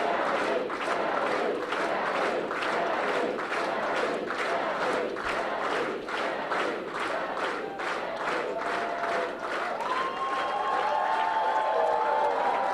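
Crowd at Ron Barber's congressional victory celebration cheering and clapping in rhythmic bursts, a steady roar of a happy crowd with a few whoops rising near the end.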